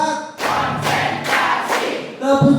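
A classroom of students claps together in a counted rhythm, four loud, evenly spaced group claps, with children's voices chanting at the start and end.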